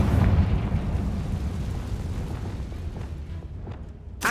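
Confringo blasting spell explosion in the video game Hogwarts Legacy: a loud, deep rumbling blast that rolls on and slowly fades, ending with a short sharp pop.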